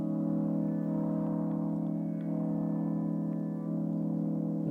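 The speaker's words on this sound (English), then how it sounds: "I also there's this pulsing chords from Atoms that's called Point for Point." Synth chords from the Point for Point preset of the Atoms plugin form a moderate, steady, sustained drone with soft pulsing and a few faint high blips above it, in an ambient RnB production setting. There is no talking.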